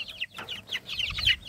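Chickens cluck softly in a coop, with a brief cluster of short, close clucks and chirps.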